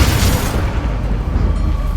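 Bombarda spell blast in Hogwarts Legacy during a duel, a loud booming explosion at the start that decays into a low rumbling tail.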